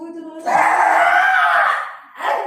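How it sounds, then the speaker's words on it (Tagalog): A woman screams in a long, strained, wailing cry during childbirth while being coached to push, then a second scream starts after a short pause. A voice speaks quietly beneath the start. "huwag na sumisigaw"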